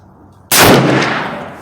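A Henry 45-70 Government lever-action rifle fires one sharp, loud shot at a 50-yard range, its boom decaying over about a second.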